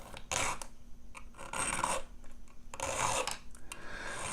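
A hand file rasps across a key blank in a few slow, separate strokes, close and fairly quiet, with short pauses between the scraping passes.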